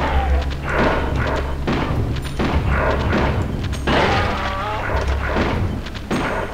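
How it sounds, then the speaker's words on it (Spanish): Buffalo rifle shots in Duke Nukem: Time to Kill on PlayStation, a series of heavy booming thuds fired at an irregular rhythm, loud and close, each with a short rumbling tail. "El rifle búfalo, no es una escopeta."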